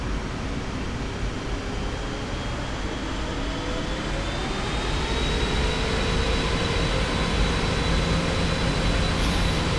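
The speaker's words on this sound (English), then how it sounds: "look at this wonderful aircraft landing in Frankfurt" Simulated PMDG 777F freighter landing at Frankfurt in a flight simulator game: a steady broadband jet roar with faint rising engine whine, continuous and fairly loud throughout, no voices.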